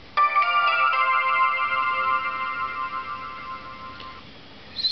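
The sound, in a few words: Chromium OS logout sound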